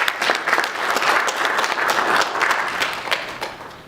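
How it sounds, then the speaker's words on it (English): Audience applause at an MOU signing ceremony between a diamond company and a university foundation, dense steady clapping from a crowd with no talk. "I would like us to give her a round of applause"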